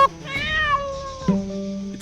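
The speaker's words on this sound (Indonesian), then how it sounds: "Itu kucing." A cat meows close by, first in a long drawn-out wavering cry and then in a shorter, lower one, with a few soft knocks around it.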